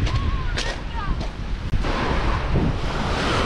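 Rough, choppy sea waves break on a beach with murky water, a broad steady wash of surf mixed with wind buffeting the microphone.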